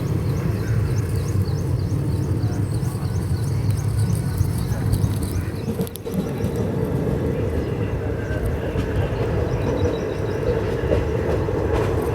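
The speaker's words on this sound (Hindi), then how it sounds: "अभी हमारी ट्रेन पहुंचने जा रही है पूर्णा जंक्शन" Marathwada Express rolling toward Purna Junction, a steady close rumble of wheels and carriage noise that runs for the whole stretch, with faint rhythmic clatter from the rails and a brief dip in the middle.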